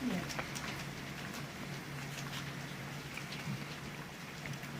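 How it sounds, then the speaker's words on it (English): Heavy rain falls steadily outdoors as a broad, even hiss with scattered drop patter, continuous throughout at moderate loudness, with a faint low hum and occasional brief bird calls in the background. "that's a heavy rain"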